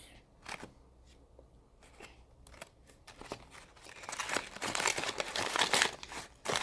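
Crinkly plastic wrapping torn and crumpled away from a lip balm package, starting with sparse crackles and building to dense, loud rustling and tearing close by, with no talking.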